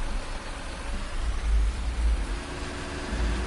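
Rain falling in Farming Simulator 19, a steady dense wash of rainfall with low rumbling swells underneath, continuous and fairly loud.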